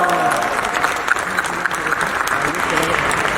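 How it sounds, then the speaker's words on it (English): A crowd applauds at the IFFI 51st film festival opening ceremony, a steady roar of clapping through the hall, with faint voices and a few sharper claps rising out of it. "Big round of applause"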